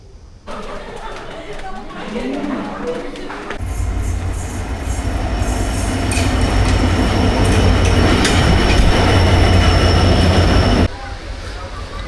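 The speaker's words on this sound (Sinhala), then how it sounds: "ට්‍රේන් එක ආවා" A train rumbles into a station at Kankesanthurai (KKS), Jaffna, Sri Lanka, wheels clattering and squealing as it grows louder, with people chattering in the background before it cuts off.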